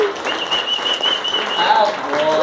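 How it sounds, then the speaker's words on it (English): Live show audience clapping and whooping after a song, steady crowd applause with high cheering voices riding on top throughout. "Yeah, that's your cue to clap."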